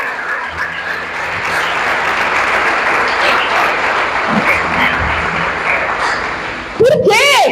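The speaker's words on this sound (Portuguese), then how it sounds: "Pode aplaudir o Senhor." Church congregation applauding during a Portuguese-language service, a sustained dense wash of clapping that runs steadily before a voice cuts in near the end.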